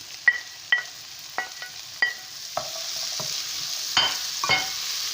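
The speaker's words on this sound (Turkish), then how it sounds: "Bunlar biraz kavrulduktan sonra havucumuzla domatesimizi katıyoruz." Vegetables including carrots and tomatoes sauté in a hot pan for a Turkish olive-oil Brussels sprouts dish, a steady close sizzle broken by a series of sharp stirring clinks and scrapes of a utensil against the pan.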